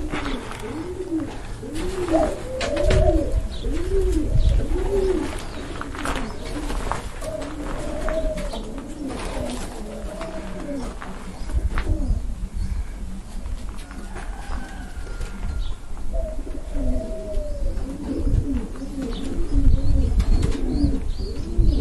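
Domestic pigeons and turtle doves cooing in a breeding loft that also houses rabbits, with soft, repeated rolling coos from several birds overlapping at moderate distance and occasional faint chirps and rustling.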